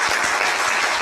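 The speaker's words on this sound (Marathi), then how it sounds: "तर जोरदार टाळ्यांमध्ये एकदा" Brief burst of audience applause at a Marathi-language talk, dense and fairly loud, a wash of many hands with a few distinct low claps.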